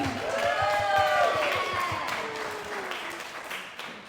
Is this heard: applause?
yes